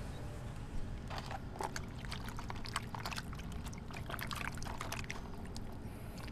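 Water pours and trickles while food is washed by hand, irregular splashes and dribbling clinks sounding close and moderately loud over several seconds with no talking.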